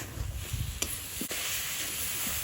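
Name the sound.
stirring curry in a pan after adding chili paste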